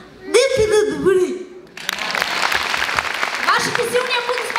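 Audience at a 2024 Christmas celebration bursts into applause for a performer named Alex: brief spoken and laughing voices come first, then sustained, bright crowd clapping fills the rest.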